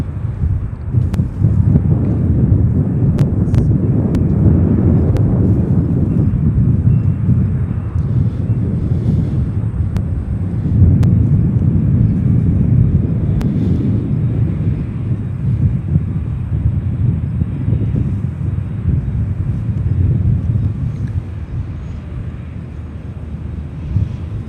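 A SkyWest CRJ regional jet on approach at Chicago O'Hare, a loud steady low roar of jet engines that swells and rolls on, with wind buffeting the microphone.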